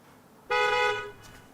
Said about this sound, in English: I never thought I'd be so happy to hear a car beeping in my life